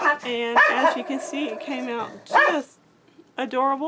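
Dogs bark in several sharp bursts close by, the barks overlapping with a person talking.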